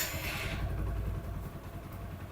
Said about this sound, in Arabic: نسمع صوت الموتوسيكل.